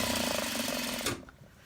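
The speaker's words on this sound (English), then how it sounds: "I do a back stitch right there just to add extra reinforcement." A sewing machine runs a short reinforcing back stitch across the zipper area of a clutch wallet, a steady mechanical chatter close up that stops abruptly partway through, leaving quiet room tone.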